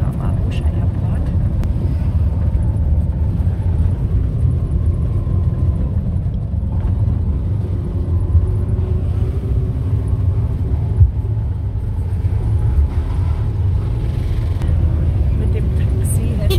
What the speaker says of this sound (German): ich sitze hier im Tuk-Tuk und fahre jetzt zur Kaffeeplantage am Abuja Airport